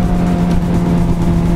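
Motorcycle engine droning steadily while riding in a large group motorcycle ride, a continuous loud running hum with no pauses and no voices.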